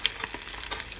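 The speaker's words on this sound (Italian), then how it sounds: "abbiamo messo il primo a friggere." Rustici filled with aubergine, provola, ricotta and mozzarella frying in hot oil, giving a soft, steady crackling sizzle with a few brief brighter pops, close and alone.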